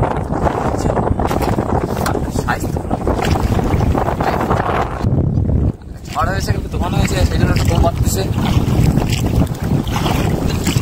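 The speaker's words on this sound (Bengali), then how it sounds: "এখন তো হাওয়া প্রচুর হচ্ছে" Strong wind buffets the microphone in a constant loud roar on a rainy day of fishing, with water and boat noise beneath and people talking over it.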